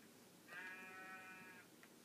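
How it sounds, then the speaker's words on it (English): A single sheep bleat from the video game Minecraft, a short wavering cry lasting about a second, fairly quiet and heard alone with no talking. "Was that sheep?"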